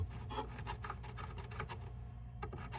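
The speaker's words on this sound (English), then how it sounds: "I'm gonna use this old nail to pry at this and see what we're looking at" An old nail pries and scrapes at wood under a kitchen sink in a 1937 home, giving a steady, close rasping with rapid repeated strokes that fade briefly before a last few scrapes.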